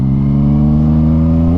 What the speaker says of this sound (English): Let's try a second gear wheelie with traction control 1.